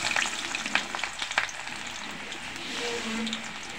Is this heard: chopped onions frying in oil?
yes